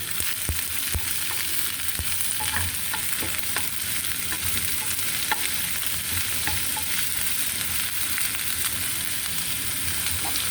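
Chayote sizzling and being stirred in a hot pan, a dense continuous crackle with scattered sharp pops and occasional scraping, close and fairly loud with no talking.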